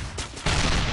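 Heavy cannon fire from a gunship in the game Assault Gunner, a couple of short blasts followed by a loud, dense burst of booming shots.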